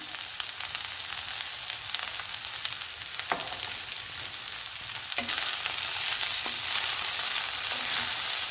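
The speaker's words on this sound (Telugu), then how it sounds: "అన్నీ కలుపుకొని వేయించుకుందాము." Curry leaves and tempering seeds fry in hot oil with turmeric, giving a steady close sizzle with occasional crackles and pops throughout.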